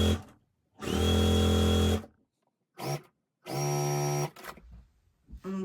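A sewing machine stitching quilt scraps runs in two steady, whirring bursts of about a second each, separated by quiet pauses with faint handling noises.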